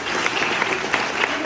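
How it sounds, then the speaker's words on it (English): Brief steady round of applause from high school seniors at Hingham High School, a dense wash of clapping from a sizable audience. "Give them a round of applause."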